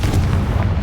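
A fiery blast spell detonates in a wizarding action video game, one short, loud, booming explosion with a deep rumbling body lasting under a second.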